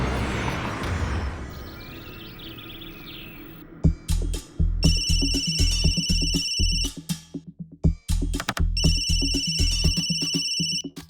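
A phone ringtone plays in repeated electronic bursts with short pauses between them, following some muffled rustling at the start.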